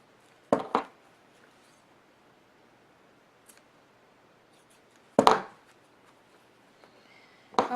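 Scissors cut fabric for a fold-and-stitch wreath in three short, separate snips spaced seconds apart, close and crisp over a quiet room.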